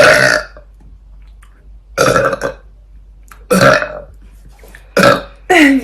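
Several loud, close burps from one person, each a rough, drawn-out belch with short quiet gaps between them, the last one rising and falling in pitch.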